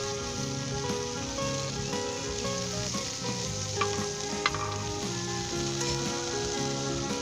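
Butter sizzling in a frying pan for a mint omelette: a dense, steady crackle and hiss with occasional louder pops, close and unbroken, no voices.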